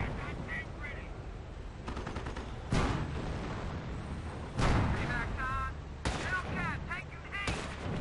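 Anti-tank guns fire in a 2v2 match of a war video game, several loud cannon blasts standing out at intervals over continuous battle noise and rumble, with other quacking-like game sounds mixed in.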